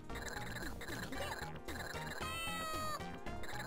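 In the Shadowland arcade video game, a synthesized cat meows several times over busy, looping electronic game music and effects.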